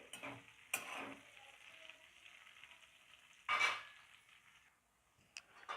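Green chillies frying with potatoes in a pan, a soft steady sizzle broken by a few sharp spatula scrapes and stirring strokes, fairly close and quiet, no talking.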